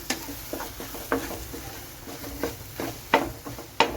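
Egg being stirred and scrambled in a frying pan while preparing a Kerala-style Chinese salad: soft scraping and tapping strokes recur irregularly over a faint sizzle, close and fairly quiet, with no talking.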